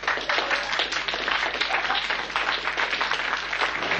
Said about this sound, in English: another round of applause for the four lifetime members there